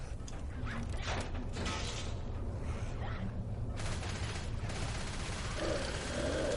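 A video-game weapon reload plays out as a series of mechanical clicks and clunks over a constant low rumble of background game noise, with occasional sharper metallic hits.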